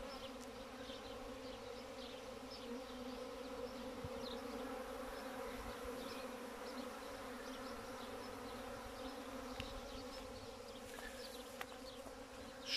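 Honeybees buzz around a sugar syrup feeder near the hive outdoors, a soft, steady, continuous hum of many insects at a moderate distance, with no talk.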